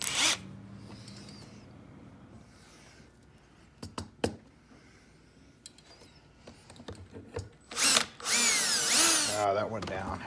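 An antique vertical-rod wardrobe lock is drilled into wood with a power drill: faint clicks and handling noises come first, then a loud, close drilling run near the end with whining pitch changes.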